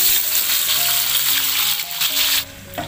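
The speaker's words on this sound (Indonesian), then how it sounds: "Nah, ini bumbunya saya goreng dulu" Lodeh spice paste of shallot, garlic and chili sizzles in hot oil in a pan, a steady close crackling hiss with faint stirring knocks and no talking.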